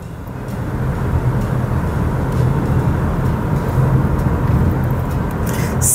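A 2024 Volvo C40 Plus P6 electric car speeds hard along a highway, giving a steady, loud, broadband road and wind rush with a low hum that swells slightly and holds for the whole stretch, no voices over it.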